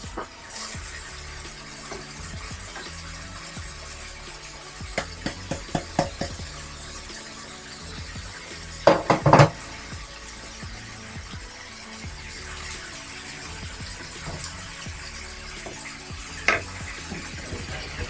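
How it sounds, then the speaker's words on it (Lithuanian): Crushed canned tomatoes stirred and frying in a cast-iron pan, a steady sizzle with scattered utensil scrapes and a few sharp clinks against the pan. "Supilame konservuotus trintus pomidorus."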